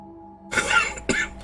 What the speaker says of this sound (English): expect me to be hacking and coughing the more that I talk